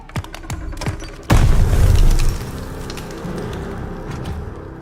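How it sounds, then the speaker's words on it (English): Grenade blast in the World War II shooter Call of Duty Vanguard, a single loud close explosion with a rumbling decay that follows scattered gunfire and debris patter. "Grenade! Get down!"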